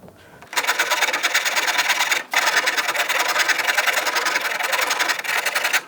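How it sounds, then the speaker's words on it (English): A Shinto saw rasp shapes a very hard oak workpiece, with dense, steady scraping strokes running continuously and close, broken by one brief pause. "So the Shinto saw rasp has taken about 11 mil radius"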